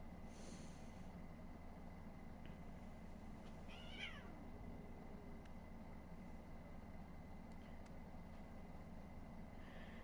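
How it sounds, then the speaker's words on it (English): A faint cat meows once or twice in the distance over a steady low background hum, with no one speaking. "you could hear a cat going on in the background"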